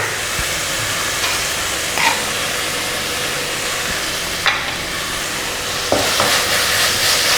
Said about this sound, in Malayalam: ഉള്ളി നന്നായിട്ട് വഴണ്ടി വരുന്നവരെ ഇളക്കി കൊടുക്കുക.